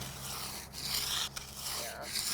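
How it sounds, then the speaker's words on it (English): Concrete edger scraping along the edge of a freshly poured concrete pad for a workshop, a continuous close gritty rubbing and rasping with a few brief breaks. "So if you run an edger on this"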